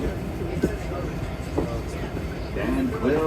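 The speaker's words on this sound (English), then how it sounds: "This is a Queens-bound 7 local train." Queens-bound 7 local train on the New York subway, a steady rumbling car interior with faint squeals and clunks, under a spoken announcement.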